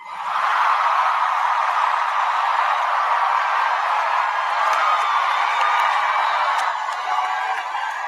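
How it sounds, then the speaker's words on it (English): A large rally crowd cheering and whooping steadily as Barack Obama is introduced, a dense, sustained roar at a distance with no break, holding level throughout. "And the crowd doesn't go as wild as they used to."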